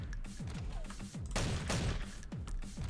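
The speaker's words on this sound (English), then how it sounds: "I get to start the next wave with an assault rifle." Assault rifle fire from the video game Madness Interactive crackles in dense, rapid bursts, loud and close, over layered game effects and a droning background.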